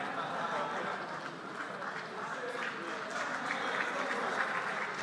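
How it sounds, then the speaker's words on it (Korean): Lawmakers applaud as a group leaves a chamber, a continuous, moderately distant rumble of many hands clapping with a busy crowd murmur mixed in, holding steady throughout. "나가는 순간까지 이제 박수를 치고 환영하는 모습인데요"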